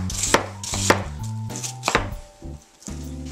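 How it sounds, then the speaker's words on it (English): Onions chopped with a knife while a penne pasta dish is prepared, giving a series of crisp, close cuts in uneven bursts with brief pauses and a faint tonal hum in the background. "When we're just chopping it up, just go ahead and chop them up."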